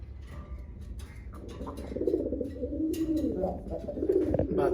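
Baby desi pigeons in a loft give soft, low throaty coos that rise and swell in repeated phrases, close by, with faint rustling and a little background noise.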